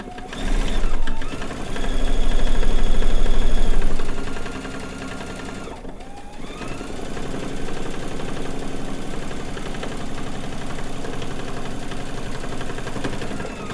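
A domestic sewing machine runs free motion quilting, its needle chattering in a steady, close mechanical whir with a brief pause midway before resuming.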